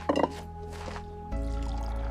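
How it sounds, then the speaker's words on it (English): A drink is poured, a brief liquid splash and trickle at the start, followed by a low droning musical bed that grows louder partway through. "Here, pour me another one."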